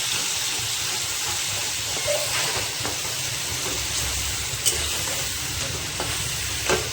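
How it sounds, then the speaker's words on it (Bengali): Ground chili, coriander, cumin and turmeric sizzle as they fry in a pan for moong dal, a steady close crackle with occasional stirring scrapes and clinks. "ভালো করে আমি মশলাটা কষিয়ে নেব"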